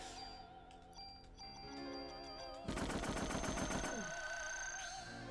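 Gunfire in Parasite Eve on PlayStation, a rapid burst of evenly spaced shots in the middle of the stretch, set among ringing game tones and chimes, with no talk.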